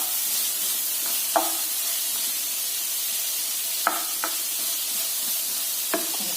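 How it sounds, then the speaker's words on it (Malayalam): Cauliflower pieces fry in a little oil, a steady soft sizzle running throughout with a few sharp clicks and scrapes of stirring at intervals. "കുറച്ചെണ്ണയിലാണ് വറുക്കുന്നത്."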